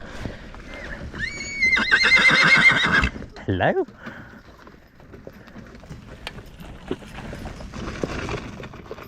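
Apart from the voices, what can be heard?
horse neighing and hooves clip-clopping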